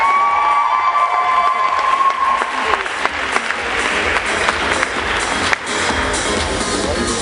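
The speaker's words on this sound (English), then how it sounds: "Let's all give a nice round of applause to Mr." An audience applauds contestant Ray Zhao at a live show, sustained dense clapping with some cheering, loud and close, fading slightly toward the end.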